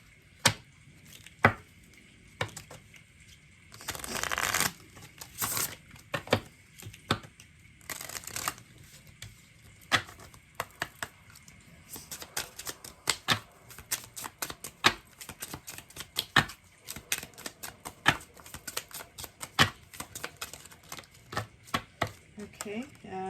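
Tarot cards are handled and shuffled close up in quiet surroundings, producing scattered sharp snaps and riffling bursts, sparse at first and then coming in rapid clusters.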